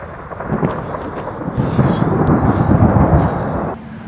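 Deep thunder rumbles steadily for several seconds, broad and heavy, with a crackling edge before it cuts off abruptly near the end.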